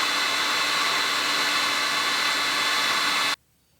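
Hot air gun shrinking heat shrink tubing over a DIY brake line fitting, a steady loud broadband whoosh held close for over three seconds before cutting off abruptly into silence.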